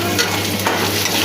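Curry leaves and seasonings frying in a hot pan while being stirred, a loud, steady, close sizzle with soft scraping and no speech.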